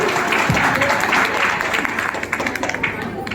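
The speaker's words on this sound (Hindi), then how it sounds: "आंटी के लिए जोरदार तालियां" An audience applauds an aunt after her dance and speech at a Women's Day programme, a steady wash of clapping from a crowd with voices mixed in underneath.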